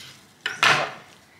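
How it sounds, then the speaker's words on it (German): Chicken wings are cut in half in a home kitchen, giving two quick close knife-and-board strikes in a row, the second louder and scraping slightly before fading. "Die Wings teilen wir einfach einmal in der Mitte durch."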